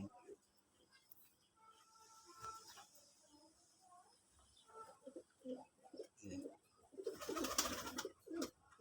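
KDR Golden Pakistani Giribaz pigeons coo softly and intermittently at close range in short rounded phrases, with a few brief louder bursts near the end over a quiet background.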